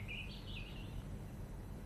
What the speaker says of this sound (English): The birds. Listen.